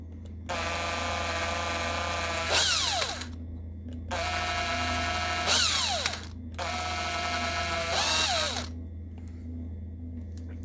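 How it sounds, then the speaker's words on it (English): An electric drill whines at high speed in three long bursts, each ending with a rising, strained grinding as it bites into a Traxxas X-Maxx RC truck part, drilling out 5mm, separated by brief pauses. "So I need to drill out this bit here 5mm so it sits into there"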